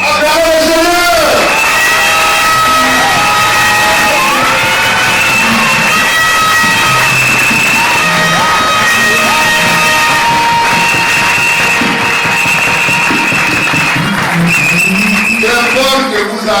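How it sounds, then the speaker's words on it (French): A church congregation in a French-language service cheers, whoops and applauds the Lord, a loud sustained crowd roar with shouting voices throughout, no clear single speaker. "Acclamez le Seigneur."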